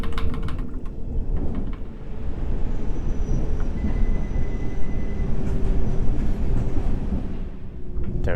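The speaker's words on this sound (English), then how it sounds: "There's another train on the other side." A simulated subway train on the Hammersmith & City line in World of Subways 3 runs with a steady, continuous rumble of wheels and motors throughout, with faint clicking rail joints and a thin high whine.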